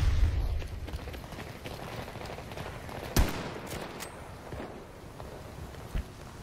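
Gunfire in a crossfire in a western video game, with scattered, distant-sounding shots and one sharper loud crack midway, over a low ambient rumble.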